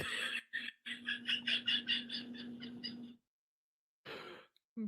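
A person imitates a frog's gulping croak with their voice: a rapid string of throaty, croaky pulses lasting about three seconds, a short silence, then another brief burst, close to the microphone.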